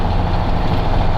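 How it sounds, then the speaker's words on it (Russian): A KAMAZ truck's diesel engine runs steadily, a loud low rumble with a continuous throbbing drone and no voices over it. "Знакомый звук двигателя."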